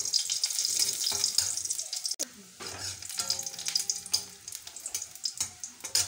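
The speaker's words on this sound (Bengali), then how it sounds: "তেল গরম হয়ে গেছে, এখন শুকনো লঙ্কা, কালো জিরা," Dried red chillies and nigella seeds hit hot oil in a pan, a loud close crackling sizzle with a sharp burst partway through, then fizzing pops and spits that continue without any voices.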